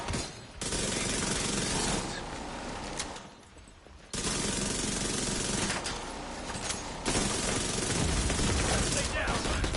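Automatic gunfire in The Division 2 video game, dense bursts of rapid shots filling most of the stretch with a short lull midway, under occasional voice.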